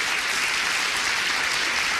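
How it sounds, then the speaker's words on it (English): A studio audience breaks into dense, sustained applause, loud and even for the full two seconds with no pauses. "Give a round of applause."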